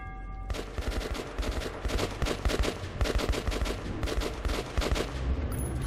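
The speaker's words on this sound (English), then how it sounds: "What are you shooting at?" Rapid gunfire in the video game Metro 2033 Redux, sustained bursts of sharp automatic shots rattling steadily and loud for several seconds, with no talking.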